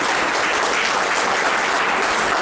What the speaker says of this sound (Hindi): कमाल, तालियां बजनी चाहिए आपके लिए।